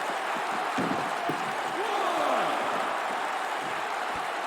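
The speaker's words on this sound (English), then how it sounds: "Listen to this crowd, and they're absolutely right." A wrestling arena crowd in a WWE 2K video game roars and cheers as a dense, sustained wash of noise, with a few faint whistles and shouts rising from the mass.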